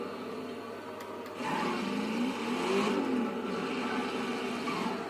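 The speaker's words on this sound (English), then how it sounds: "Oh, the engine doesn't sound too bad either." Car engine revving in the racing game Race Driver GRID during a demolition derby, a steady whirring drone that rises in pitch and swells louder midway, then holds at a sustained roar with no talk over it.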